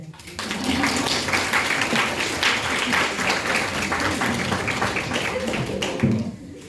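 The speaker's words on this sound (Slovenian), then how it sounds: "Jaz predlagam, da si kar same sebi malo zaploskate" Mothers applaud themselves at a Mother's Day event, a sustained burst of many hands clapping for several seconds, fairly loud and steady, fading slightly at the end.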